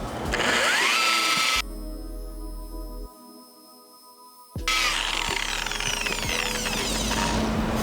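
Rotary polisher buffing compound into car paint over a touch-up scratch repair, a loud, steady machine whir up close that drops to a quieter lull midway before surging back to full strength.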